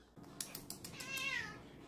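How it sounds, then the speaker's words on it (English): A cat meows once near the end, a rising-and-falling call that is faint but clear, after a few soft clicks and handling sounds close by. "You hear my cat?"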